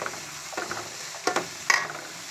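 Carrots and beans are stir-fried in oil for gobi fried rice, a soft steady sizzle with a few scraping stirs of a spatula in the pan, close and alone.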